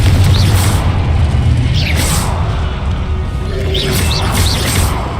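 Fire spell explosions in the Hogwarts Legacy video game, loud booming blasts with crackling bursts repeating over continuous rumbling battle noise.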